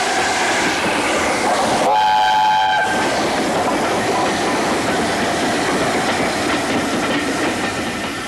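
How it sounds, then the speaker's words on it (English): Mallard steam locomotive pulls its train into Westbury Station with a steady loud rumble and rattle of wheels, broken by one brief blast of the whistle near the start. "The train ran into Westbury Station from the south"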